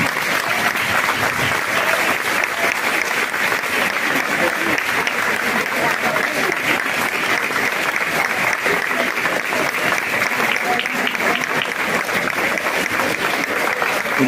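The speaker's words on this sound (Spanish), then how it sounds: "Va a tener que ser largo el aplauso porque son muchos" Long, steady applause from a large audience at a women's tea gathering in San Carlos, dense clapping sustained at an even level for the whole stretch without letting up.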